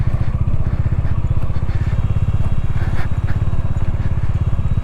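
Motorcycle riding off-road on sand near Pangong Lake, its engine a loud, close, steady thrumming drone that runs through the whole clip with faint rattles.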